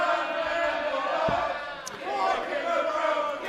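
A crowd at a live darts finals night roars and chants steadily throughout, with a dense, sustained wall of voices and a brief sharp knock partway through.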